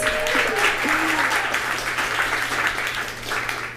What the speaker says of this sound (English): We can do some more claps if you guys are into that.